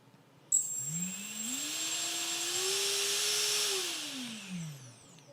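A quadcopter motor being spin-tested after rewiring, driven by an ESC, starts with a sharp click and then whines, rising in pitch, holding steady, then winding down, all close by and with no talk.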